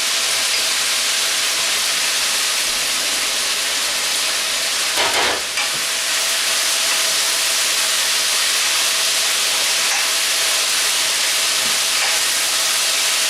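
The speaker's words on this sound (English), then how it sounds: "Give that a good stir fry." Potatoes stir-fried with salt and bouillon powder, a loud continuous sizzle and hiss throughout with a brief clatter of stirring midway, no talk.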